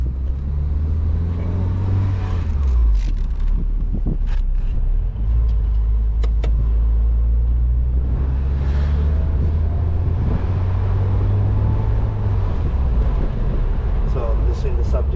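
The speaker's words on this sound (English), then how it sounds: "it's driving very well and also shifting very" A Porsche 944 drives at low speed through a subdivision, with a steady in-cabin engine hum that dips and rises as it shifts through the gears, and a person talking over it throughout.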